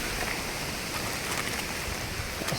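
Heavy rain pours steadily near a tower in strong wind, a dense, constant wash of noise with no break for the whole stretch.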